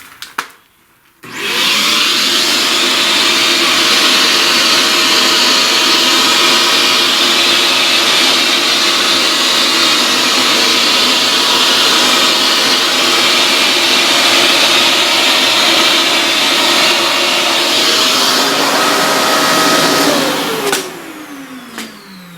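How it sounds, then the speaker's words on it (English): A vacuum cleaner roars steadily at close range for about twenty seconds after a brief start-up, then winds down as it switches off. "Let's vacuum all this stuff."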